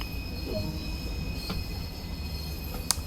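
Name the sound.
steam train running in Train Sim World 2 video game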